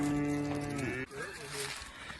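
Goats on a farm bleat and call close by in a strong harmonic cry, with rustling and other farm animal noise mixed in.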